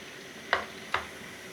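Whole garam masala spices, crushed dried coriander and cumin hit hot cooking oil in a kadhai, giving two short, sharp sizzling bursts a moment apart against a low background hiss.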